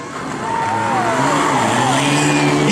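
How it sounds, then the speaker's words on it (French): A Porsche 997 GT3 rally car at a rally in Wallonia roars past, its engine pitch sweeping and climbing as it accelerates, loud and close throughout the short burst. "juste profiter du son magnifique de cette Porsche"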